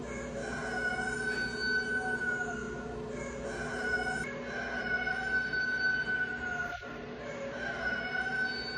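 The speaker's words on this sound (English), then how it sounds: "That's the rooster going off" A rooster crows in the distance over a steady background hum, its call faint but clear against constant ambient noise.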